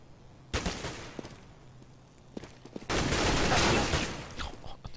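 Bursts of gunfire in Counter-Strike on de_dust2 during a competitive match: a sharp volley early, a few isolated shots, then a louder sustained fusillade, fairly close and dense.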